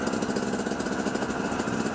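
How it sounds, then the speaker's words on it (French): A tractor engine running nearby out in the countryside, a steady rough mid-pitched drone with a slight knocking pulse, fairly loud and continuous throughout with no voices. "un tracteur"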